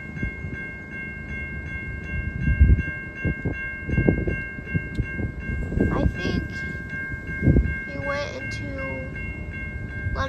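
A CN short line freight train stopped at the St. John's and Goddard Road crossing, with a steady crossing bell ringing, low rumbles and clanks from the cars, and a brief horn blast near the end.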